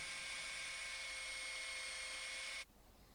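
Jellas 650W electric belt sander working wood edges with 180 grit, a loud steady high-pitched whine that cuts off abruptly near the end.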